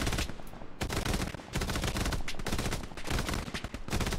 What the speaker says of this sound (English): I'm giving them a bit of fire support